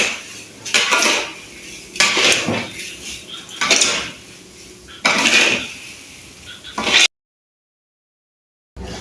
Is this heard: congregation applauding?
no